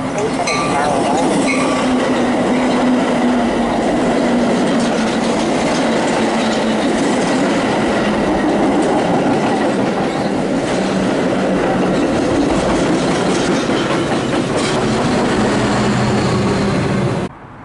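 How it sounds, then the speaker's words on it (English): A BNSF commuter train arrives at Naperville station: a continuous loud, close rumble with rattling wheel clatter and metallic clinks fills the whole stretch and stops abruptly at the end. "BNSF train number 1268 to Chicago Union Station is now arriving."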